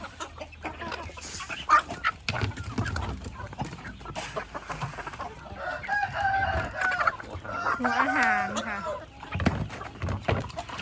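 Chickens cluck steadily and a rooster crows at feeding time, fed a mix of vegetables, rice bran, unhusked rice and feed pellets, with someone talking over the flock throughout.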